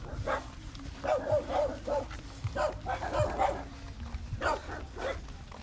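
A dog barks repeatedly in short bursts of several quick yaps, fairly close, with uneven pauses between the volleys over low background noise.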